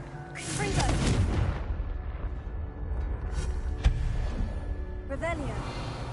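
A Confringo blasting spell goes off in a Harry Potter video game, giving a deep rumbling boom with crackling debris that lasts for several seconds, while a voice speaks over the start and the end of the blast.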